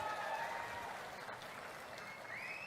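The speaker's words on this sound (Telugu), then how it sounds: "ప్రజల తరపున మీరు కూడా గట్టిగా చప్పట్లు కూడా చెప్పండి" Audience applause at a TDP public meeting addressed by Chandrababu Naidu, a steady wash of clapping held at fairly low, distant level throughout with no talk over it.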